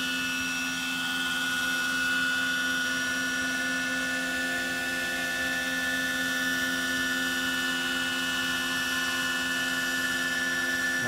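A Hughes 500 model helicopter hovers on its first flight, its rotor and motor holding a steady, loud, high-pitched whine without letup throughout.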